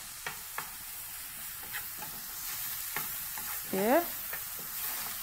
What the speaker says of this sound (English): I'm going to stir also a little bit of olive oil for the onions that I just added in